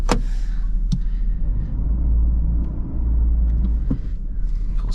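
A 2002 Chevy Blazer engine runs with a low, steady rumble as the vehicle pulls forward, with a few brief clicks and knocks on top and no talking.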